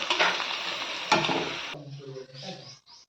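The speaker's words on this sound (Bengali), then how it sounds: "পাতায় ভাজা বেলে মাছ" Bele fish fries in a leaf, giving a loud crackling sizzle with a sharp burst around the middle, then fading to softer, sparse sputters and light clinks toward the end.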